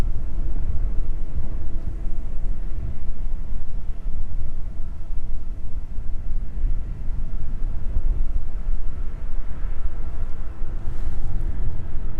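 Steady, loud wind buffeting a microphone outdoors at East Midlands Airport, a continuous low rumbling roar that fills the whole stretch with no break and no talk.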